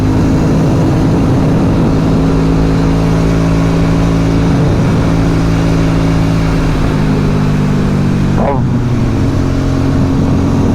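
Aprilia Dorsoduro 750 motorcycle engine droning loud and steady while riding, with a shift in pitch near the end and a voice talking over it.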